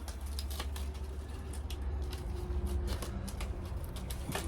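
Scissors snip through a small piece of material in a workshop, giving a run of sharp crisp cuts and rustles over steady low background hum, close and moderately loud.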